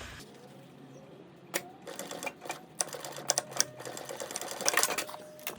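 Sewing machine stitching a bikepacking tool pouch, starting after a quiet moment with a run of rapid mechanical stitching bursts and brief pauses, close and clear with no talk.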